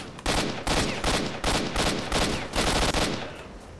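Pistol shots ring out in S.T.A.L.K.E.R.: Shadow of Chernobyl, fired in rapid succession as loud, close reports roughly every half second with no gaps.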